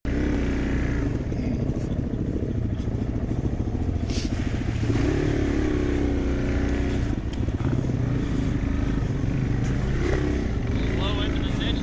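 A dirt bike engine drones and revs steadily on a deep-mud trail, loud and close throughout, with people talking and shouting over it.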